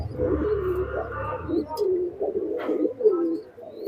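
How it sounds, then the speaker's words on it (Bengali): Soft, low coos from Teddy Golden highflyer pigeons rise and fall in several rounds close by, with a brief chirpy note mid-way and no talking. "এটা কি কবুতরের বাচ্চা"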